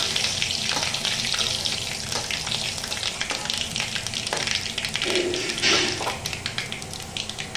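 Panch phoron spices sizzle steadily in hot mustard oil in a pan, a loud continuous crackle with occasional stirring sounds.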